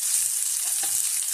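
Sliced onion sautéing in a hot pan, giving a loud, even, hissing sizzle that holds steady through the short moment.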